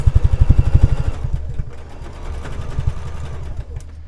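A sewing machine stitches quilt block seams in quick bursts of rhythmic mechanical chatter, loud at first and then steadier and lighter, running alone without talk.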